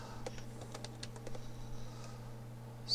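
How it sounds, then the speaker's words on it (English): Typing on a computer keyboard while filling in an email address field: a quick run of light, close key clicks over a steady low electrical hum, fading toward the end. "you can pull up different names or groups just by typing in and selecting from the autocomplete field"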